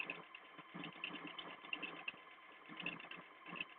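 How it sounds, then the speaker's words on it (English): A sewing machine runs steadily while hemming French terry fabric, a faint, continuous motor whir with small rhythmic rises in pace, heard up close and alone without talk. "After I'm sewing this hem"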